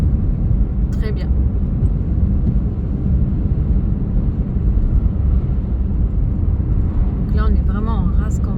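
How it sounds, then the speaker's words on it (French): A car drives at night on a dark country road and passes an oncoming vehicle, a steady low engine and road rumble throughout with the other car's sound swelling briefly; people talk intermittently over it. "On croise encore un véhicule."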